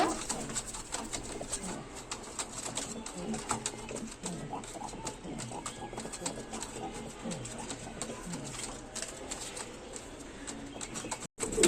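Beauty Homer pigeons coo softly in a loft, repeated low burbling calls close by, with people talking over them throughout.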